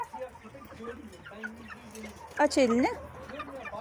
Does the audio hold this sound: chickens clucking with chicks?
yes